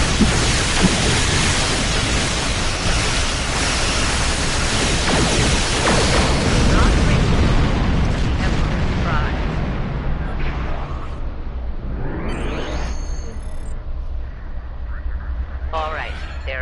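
Heavy weapon fire and explosions pounding an enemy habitat in Star Trek Online, a loud continuous roaring blast of noise that slowly thins out, with sci-fi beeps and whooshes near the end and speech over the top.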